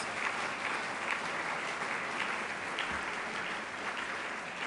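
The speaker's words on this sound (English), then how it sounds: "can we have a round of applause for these tremendous White House Fellows?" Audience at a White House Fellows leadership award ceremony applauding the fellows, a thick, even stream of clapping from a large room, sustained and unbroken without speech.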